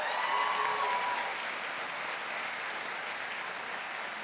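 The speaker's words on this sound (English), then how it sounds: "if we could please give a huge round of applause for all the staff and instructors at the Culinary Institute of Virginia" At the Culinary Institute of Virginia 2016 graduation ceremony, a crowd applauds the staff and instructors with sustained clapping. It sounds fairly distant and soft, peaking briefly at the start, then holding an even wash.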